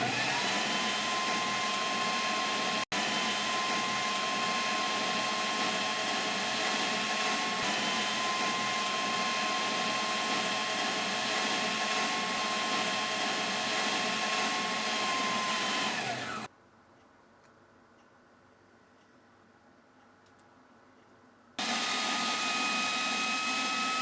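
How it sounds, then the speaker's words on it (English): An electric whisk beats a condensed milk and cheese mix for a vegan strawberry cheesecake, running as a steady loud motor whir close by, stopping abruptly for several seconds, then starting again, with no talking. "use an electric whisk to beat the condensed milk and cheese mix well"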